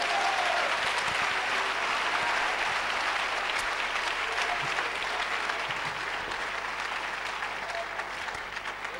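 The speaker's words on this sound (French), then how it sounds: "Applaudissez pour le Seigneur." Sustained applause from a church congregation during a sermon, dense and steady clapping filling the room for the full stretch, easing slightly at the end.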